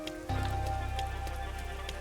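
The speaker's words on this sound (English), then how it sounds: "Everyone is seeing how good the rain is." Steady video-game rain hisses evenly, then thickens into a dense, continuous patter with a low rumble beneath it, moderately loud and with no voices.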